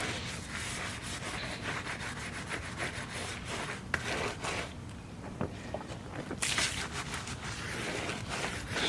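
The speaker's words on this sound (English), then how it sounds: "now that it is all wet, I'll get to scrubbing. And that's what I do, I scrub away." Steady brushing and rubbing as an e-bike frame is scrubbed clean while wet, a continuous close scratchy scrape with short pauses and bursts of stroking.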